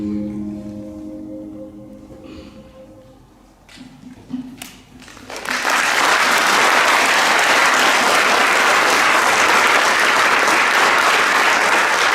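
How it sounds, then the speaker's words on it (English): After a few seconds of quieter murmuring and a couple of knocks, a large crowd at a middle school film festival bursts into loud, sustained applause that fills the room. "another big round of applause for all of our middle school films"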